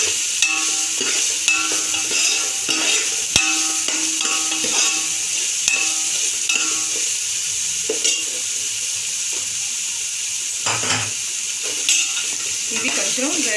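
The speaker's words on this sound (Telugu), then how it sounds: "ఇవి కొంచెం వేగాలి." Onions and green chillies frying with ginger garlic paste for prawn biryani, a steady bright sizzle with occasional stirring scrapes and clinks of a spoon against the pan, close and continuous.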